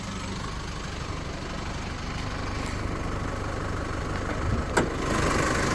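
A 2017 Holden Colorado's 2.8 turbo diesel engine idles steadily with the bonnet open, a close, even rumble that continues without change for several seconds.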